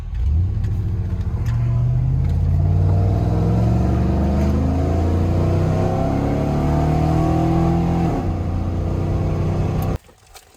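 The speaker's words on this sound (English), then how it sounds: "Now you can hear like actual intake noise instead of the manifold screaming." A Chevrolet Silverado truck engine runs loudly and steadily with a low, rumbling intake roar that rises slightly in pitch, then cuts off abruptly near the end.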